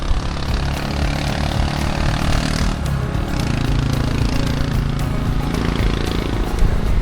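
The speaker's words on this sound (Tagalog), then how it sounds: "Daming motor na dumadaan." Steady engine drone of several motorcycles passing along a rural mountain road near Real, Quezon, with a constant mid-distance rumble that rises slightly toward the end.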